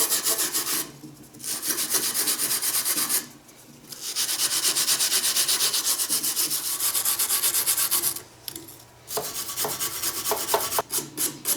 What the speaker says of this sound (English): what I do at this point is I run the brush all around the outer part of the carb here where the O-ring goes